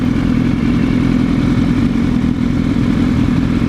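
An Aprilia RSV4 motorcycle engine runs steadily nearby, a loud, even rumble with a low, constant drone and no change in pitch, heard alone without speech.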